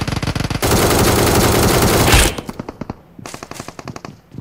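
A Vector SMG in PUBG Mobile sprays long, rapid bursts of automatic fire at over 300 metres, first one dense continuous stream and then shorter, sharper volleys, loud and close.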